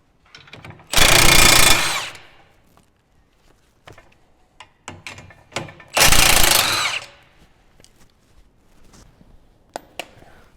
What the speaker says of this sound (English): the first thing we have to do to take off this closing wheel frame is to take off this 3/4 inch nut on both sides.